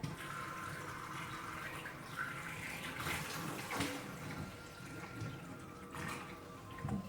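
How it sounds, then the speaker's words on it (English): Hot water poured from a kettle into a tub of concentrated dye for overdyeing handspun yarn, a steady close pouring and splashing rush running through the whole stretch with brief louder surges, no talking. "So I'm just going to add some hot water to this now, just to dissolve this dye."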